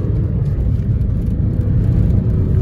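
A modified diesel Maruti Brezza accelerating in first gear, heard from inside as a steady, loud low rumble with a constant engine drone throughout.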